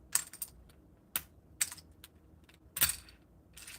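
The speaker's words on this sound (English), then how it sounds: "Honestly, this is the best way to take out keycaps." Keycaps being pulled off a mechanical keyboard during modding, heard as a handful of sharp, separate plastic clicks and snaps with quiet pauses between them, close to the microphone.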